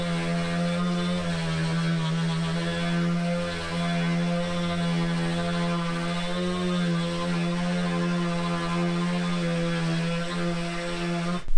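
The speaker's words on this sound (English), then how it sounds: "Just throw it under a sander and makes quick work of it." A power sander whirs steadily while removing rust from a cast iron machine surface, giving a loud, close, constant motor hum that holds from start to finish with no talk.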